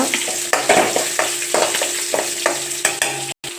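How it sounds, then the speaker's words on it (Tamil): Crushed garlic stirred into a hot frying pan for drumstick-leaf sambar, a loud close sizzle with rhythmic spatula scrapes about every half second, no voices. "பூண்டு ஆட் பண்ணிக்கோங்க இடித்து வச்ச பூண்டு அதை நல்லா கலந்து விட்டுக்கோங்க"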